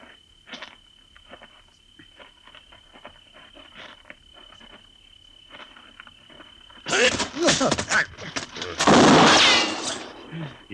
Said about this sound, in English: His gun just went off when you hit him.